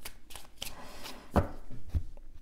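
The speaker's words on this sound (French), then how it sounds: "alors j'ai déjà brassé les cartes, je le refais encore" Tarot cards are shuffled by hand in a series of soft, close riffling and tapping bursts, with a couple of firmer knocks as the deck is squared, and no talk over it.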